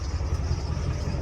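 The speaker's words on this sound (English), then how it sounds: "we'll give you a couple revs here." A truck engine with a straight-piped stock exhaust and an exhaust leak, running loud and close in a brief burst of deep, rumbling engine noise.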